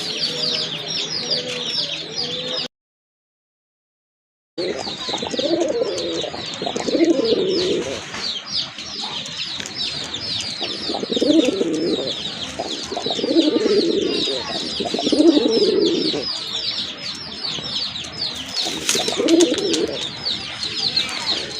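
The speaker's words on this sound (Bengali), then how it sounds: "আর এক জোড়া কবুতর অনেক বড় সাইজের হোয়াইট কালারের ভিতরে এক জোড়া দেশি কবুতর" Local pigeons at a pigeon and poultry sale give repeated low, throaty coos in a steady rhythm, with brighter chirps from other birds over a constant background; a brief silent gap comes near the start.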